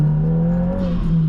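A Subaru WRX engine under hard acceleration, a loud steady droning hum with a rising whine heard from inside the car, no talk.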